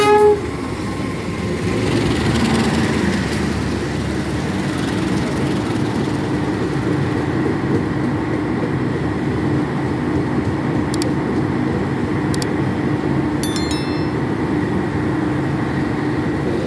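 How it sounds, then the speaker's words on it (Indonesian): An extra Gambir–Solo passenger train rolls past nearby, a loud, continuous rumble of wheels and carriages lasting the whole stretch, with brief sharp squeals and clanks near the end. "rangkaian kereta api tambahan Gambir Solo yang akan saya naiki"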